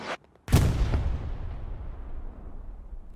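A satchel charge detonates in the video game Hell Let Loose, one heavy booming blast after a brief crack, followed by a long rumbling decay that fades over a few seconds.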